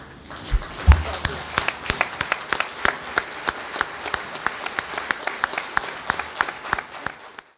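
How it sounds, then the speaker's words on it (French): Audience at a closing ceremony of a project workshop in Benin rises for a standing ovation, with sustained crowd applause and sharp individual claps over a steady wash of clapping, a brief low thump near the start. "Levez-vous et acclamez-la, s'il vous plaît."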